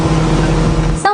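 Loud, steady low-pitched roar of a speedboat engine running continuously throughout, with a brief dip and shift in tone near the end.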